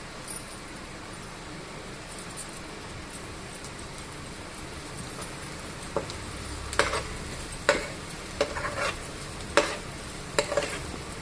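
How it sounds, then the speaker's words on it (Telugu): Fresh coconut and chili fry in a pan with a soft background sizzle, broken by several sharp scraping clinks of a spatula stirring against the pan in the second half. "కారంతో పాటు పచ్చి కొబ్బరి కూడా వేగిపోతుంది"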